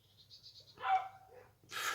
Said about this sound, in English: I do apologise for that dog.